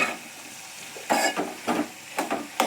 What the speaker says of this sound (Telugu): మంచిగా నూనెలో వేగాలండి